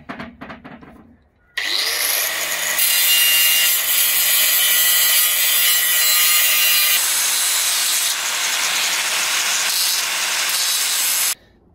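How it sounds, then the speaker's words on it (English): A power grinder cuts back a metal caliper bracket on a Honda CR-V, a loud, harsh, continuous grinding whine held close for around ten seconds after a brief spin-up, then cutting off. "I'm just grinding back part of that caliper bracket so I can fit that in the back."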